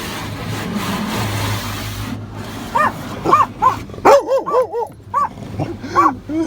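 Dogs bark at a car wash, first amid washing noise and low whimpers, then in a rapid series of loud, close yips and barks, with people talking faintly in the background.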